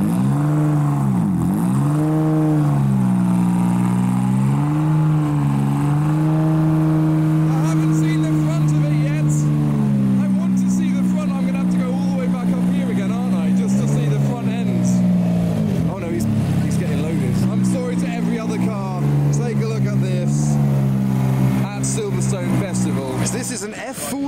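Ferrari F40 GTE engine starting up and idling with a deep, rumbling steady tone that swells and dips, loud and close throughout, with people talking over it.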